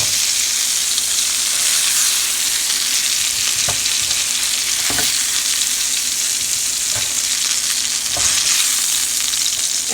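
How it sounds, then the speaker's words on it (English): Pork chops sizzle steadily in hot rendered pork fat as they are lifted from the pan for smothered Southern pork chops, a loud, even crackle with a few sharp pops and clicks of utensils and no talking. "I'm going to go ahead and take these pork chops out of the pan."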